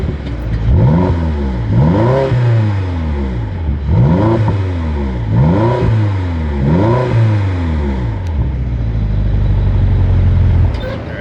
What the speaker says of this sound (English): let me show you guys the startup and how it sounds